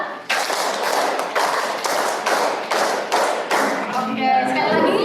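A school class claps together in a rhythmic pattern, about eight sharp unison clap groups in a steady beat, loud and close, with a voice briefly heard near the end.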